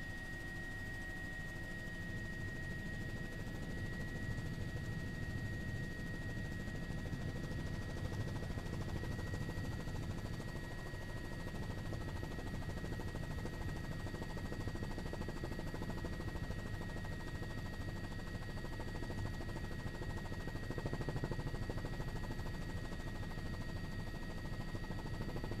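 Helicopters fly above the Oroville Dam spillway, where others lay electrical wire below, heard as a steady, dense rotor and engine drone that continues unbroken with no voices.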